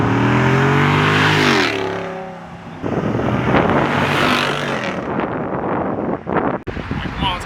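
A 2022 Jeep 392 V8 revved at full throttle, a loud, rising roar that climbs in pitch and then holds a harsh, rumbling drone, with wind buffeting and people speaking over it.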